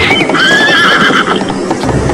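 A general's horse, struck by a weapon in a mounted duel, lets out a loud, shrill whinny as it falls, with hoof clatter and dense background noise throughout and no talk.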